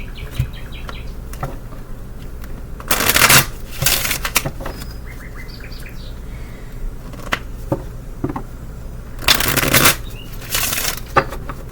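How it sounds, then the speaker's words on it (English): A deck of cards is shuffled by hand in several brisk riffle bursts, close and crisp, separated by quiet stretches with faint background chirps. "Let me try and shuffle these."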